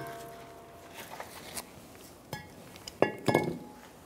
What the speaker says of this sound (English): Now I'm gonna take the rotor right off.